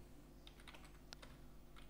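Fingers tap quietly on a computer keyboard while an HTML table is coded, giving a soft, irregular patter of keystrokes over a low steady hum, with no voices.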